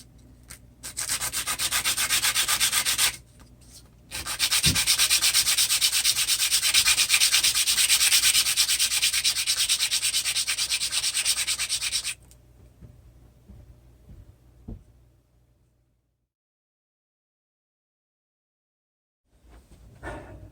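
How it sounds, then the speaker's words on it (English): Hand sanding wood to fit the saddle of an acoustic guitar for an LR Baggs StagePro Anthem pickup install, a steady close rasping scrub that runs for several seconds, pauses briefly, resumes longer, then stops into near silence. "I got probably another 10 thousandths to go or so, and I'm just going to sand."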